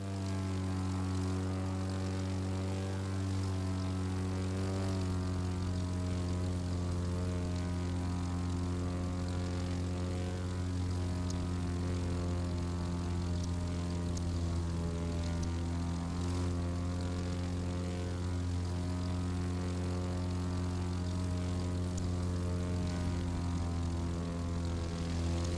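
A propeller airplane in The Crew 2 video game flies low with a loud, steady droning engine hum and rich layered tones, continuous and close throughout with no talk.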